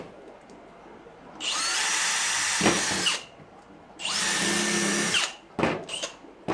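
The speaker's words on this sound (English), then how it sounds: "Don't drill towards your hands, kids." A power drill bores a hose hole for an aquarium airlift filter, two sustained high whining bursts of about two seconds each, close and loud, followed by short trailing spurts.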